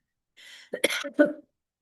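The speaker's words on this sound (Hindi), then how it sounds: "सॉरी, खांसी आ रही है बार बार।" A man coughs in a short burst of two or three harsh, close coughs, preceded by a breathy throat sound.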